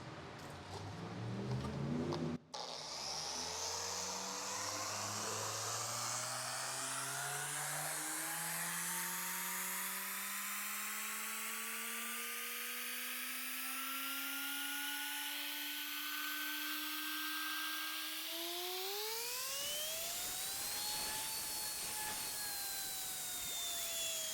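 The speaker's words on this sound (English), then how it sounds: "Okay, so we did 3 passes with our microfiber cutting pad" A car paint polisher fitted with a microfiber cutting pad, set to speed 4.5 for paint correction, whines with a motor tone that climbs slowly for about twenty seconds, then jumps higher after a brief knock at the start.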